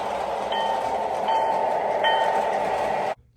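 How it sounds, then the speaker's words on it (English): A model train runs along layout track with superelevated curves, giving a steady rolling rumble with light periodic clicks from rail joints, close and continuous before cutting off abruptly near the end. "you have to run a train through it to make sure it's okay"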